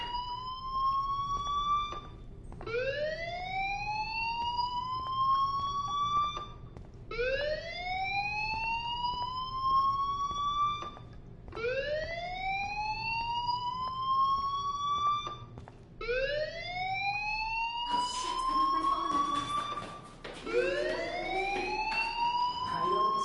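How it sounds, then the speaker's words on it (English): A fire alarm rings in the video game Life is Strange, repeating a rising whooping siren tone about every four and a half seconds, loud and steady with no talking. "do you hear that fire alarm?"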